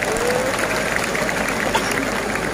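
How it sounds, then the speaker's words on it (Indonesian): Applause from the audience at an Islamic religious gathering (pengajian) hosted by a pondok pesantren in Bojonegoro: steady dense clapping across the whole stretch with a murmuring crowd beneath it. "Tepuk tangan untuk beliau."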